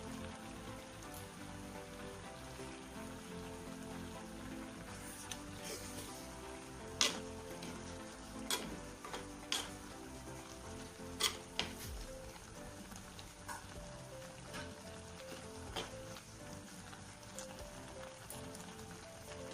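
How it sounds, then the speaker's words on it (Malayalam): A steady bubbling simmer of dried prawn and mango curry in a pot, with occasional sharp clinks and taps scattered over the continuous low burble. "നന്നായിട്ട് തിളച്ചിട്ടുണ്ട്. ഇതൊന്നുകൂടി ഒന്ന് വറ്റി കിട്ടണം നമുക്ക്"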